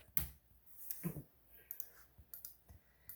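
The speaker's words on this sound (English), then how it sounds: "I'm clicking on colors right now." Computer mouse clicks while colors are switched on vectored motorcycle graphics artwork for a Honda CR500 build, a quick run of sharp, quiet clicks spread irregularly over a few seconds with faint room noise between them.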